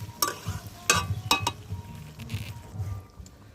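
Goat fat and meat cooking with spices, a steady sizzle broken by several sharp scraping strokes of a spoon against the pot, close and moderately loud.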